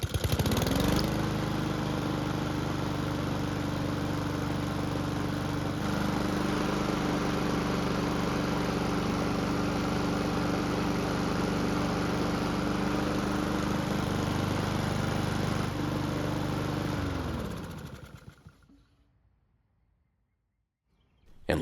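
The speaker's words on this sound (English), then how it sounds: "the engine on the donor mower starts and runs just like it should" A Honda donor lawn mower engine runs steadily at a loud, close idle-to-working drone for about seventeen seconds, then cuts off and winds down into near silence, with faint birdsong in the background.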